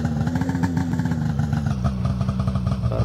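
In the Antarctica 88 video game, a snowmobile engine runs with a loud, throbbing, pulsing mechanical drone that wavers slightly in pitch.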